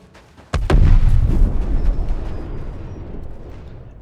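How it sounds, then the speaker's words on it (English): A ship self-destructs in the video game Star Citizen with a sudden heavy explosion boom, followed by a deep rumbling roar that slowly fades over several seconds, with no speech. "you can self-destruct the ship"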